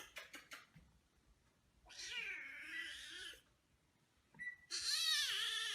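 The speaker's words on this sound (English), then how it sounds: "She is our crazy cat, Mittens" A cat gives several long, drawn-out, wailing meows, loud and close, separated by short pauses, with a few quick clicks at the start.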